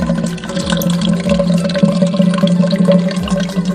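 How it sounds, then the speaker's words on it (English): Gasoline poured into a glass jar containing a vape gives a continuous liquid gurgle and trickle with small splashes, fairly close and loud, and no one speaking. "All right, pour some gasoline in there."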